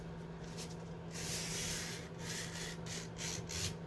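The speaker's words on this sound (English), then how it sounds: "I like to just lightly buff the edge to make sure that it's stuck on there." Edge of tape being lightly buffed down on a piece of furniture, soft repeated rubbing strokes over a faint steady hum, close and quiet.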